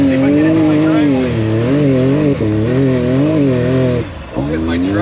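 Can-Am Maverick X3 side-by-side with an EVO R3 tune pulling into a snowy driveway, engine loud and close, revving in rising and falling waves with a brief drop near the end.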